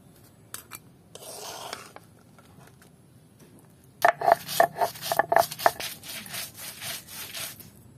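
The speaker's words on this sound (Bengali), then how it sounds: "এখন এই চিংড়ি মাছগুলোকে পাটায় বেটে নেওয়া হবে" Shrimp being ground on a stone grinding slab (pata) for a shrimp mash: a brief scraping patch early, then a rapid run of rhythmic rasping, rubbing strokes from four seconds on, close and fairly loud, with no talk.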